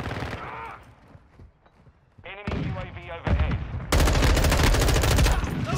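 Bursts of M4 rifle fire from Modern Warfare 2 crack out in rapid automatic strings, quieter early on and then loud and sustained near the end, with a short lull between volleys.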